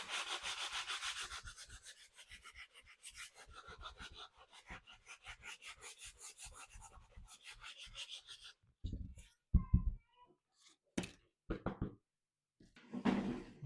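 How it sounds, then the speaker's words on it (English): Old finish being scraped off a wooden kitchen chair: a steady run of close, rasping scrape strokes for about eight seconds, then a few louder separate scrapes and knocks with pauses between them. "let's scrape some more off."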